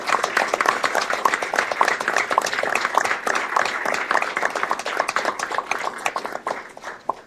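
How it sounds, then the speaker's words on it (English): Audience at a county commissioners' meeting applauding an Urban Search and Rescue team, crisp individual claps in a lively, uneven round that fades toward the end. "So can we just give these folks a round of applause?"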